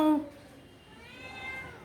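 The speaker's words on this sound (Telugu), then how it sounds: "చూడండి మా ఇంట్లో పిల్లి ఎంత చక్కగా నన్ను అనుకరణ చేస్తుందో" A domestic cat gives one short, loud meow at the start, followed by a softer, drawn-out meow that rises and fades near the end, heard close with no talk.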